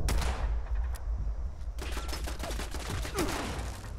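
Heavy turret gunfire in a video game, dense rapid bursts of shots overlapping into a continuous loud fusillade with a brief lull near the middle before firing resumes.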